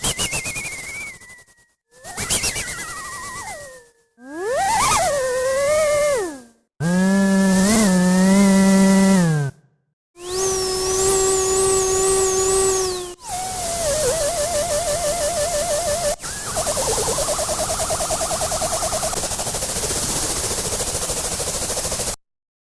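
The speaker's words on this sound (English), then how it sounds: "we can go from bird to chainsaw to helicopter" Synthesized sounds morph in a series of separate bursts with short gaps, from whistling, birdlike chirps through buzzy, sawing chainsaw-like tones to a steady, pulsing helicopter-like drone. No one talks.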